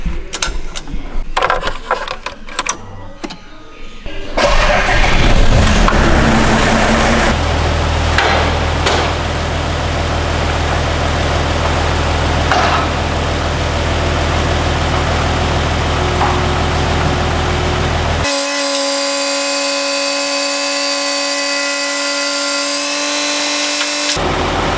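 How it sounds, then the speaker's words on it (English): An expedition truck's engine cranks and catches after several clattering knocks, then settles into a loud, steady idle. Later, a higher mechanical whine with a tonal hum joins in. "Now I'll start the truck and we'll lift the roof up"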